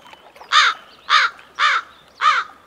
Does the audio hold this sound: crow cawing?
yes